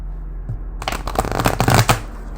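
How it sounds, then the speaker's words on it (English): Tarot cards being shuffled in a riffle: a quiet start, then a dense burst of rapid crisp card flutters and slaps running about one and a half seconds, close and loud, with no talking. "I wanted to do this, like, kind of cool ass shuffle"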